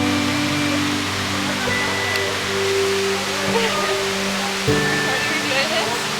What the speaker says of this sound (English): It's the most well-known waterfall in Hamilton.